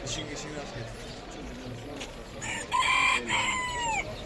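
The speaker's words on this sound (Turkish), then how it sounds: "Burada ispenç var bir tane yakaladık. Ötüşünü de yakaladık." An ispenç rooster at a poultry market in Kırıkkale crows loudly partway through, a long drawn-out call, with other birds and low voices murmuring in the background.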